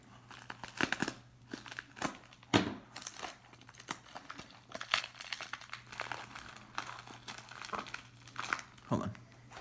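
Someone opens a heavily taped mail package with close, busy crinkling, rustling and tearing of tape and packaging that comes in uneven bursts.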